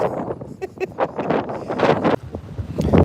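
Gusty wind buffets a microphone out on a bass fishing boat, loud rumbling bursts that rise and fall irregularly, with a few faint rustles in between.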